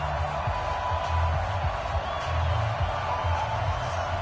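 Stadium crowd noise from an EA Sports NFL video game, Cincinnati Bengals at Pittsburgh Steelers, a steady roaring crowd bed with low rumbling swells, holding at even loudness throughout without clear talk.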